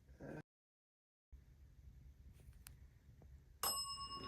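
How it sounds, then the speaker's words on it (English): A bicycle-style bell rings once, sharp and fairly close, in a quiet room with a low steady hum during a paranormal investigation at an oddities shop. "Ring the bell, let him know."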